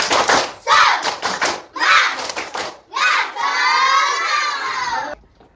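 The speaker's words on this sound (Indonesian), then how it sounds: "Tepuk semangat." A group of children at a school gathering perform a spirit clap, with quick rhythmic bursts of clapping and shouting that build into one long, loud collective cheer before stopping abruptly.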